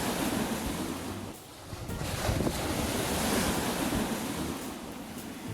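Rough surf at Fort Charles Beach in St. Elizabeth, Jamaica: a loud, continuous wash of waves with heavy wind buffeting the microphone, briefly easing before surging back strong.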